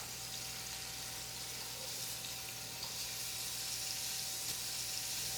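Beef short ribs sear in a hot pan, caramelizing on every side, giving a steady, close, unbroken sizzle and hiss with a low constant hum underneath and no talking.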